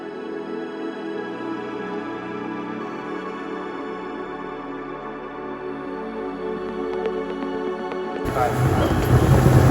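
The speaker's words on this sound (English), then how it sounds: "I'm going along in quite a rough swell now at nearly 40 knots, 35 knots" A Zodiac RIB boat runs fast at about 35 to 40 knots through rough swell: a loud, continuous outboard engine drone with wind buffeting the microphone, building into heavier roaring water and wind noise near the end.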